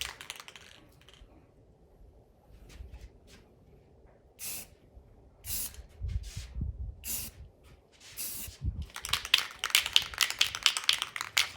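Short, sharp bursts of spray paint hiss onto EVO X rims for a 1992 Mitsubishi 3000GT VR4, several separate one-second sprays followed by a rapid cluster of quicker bursts, close and clear.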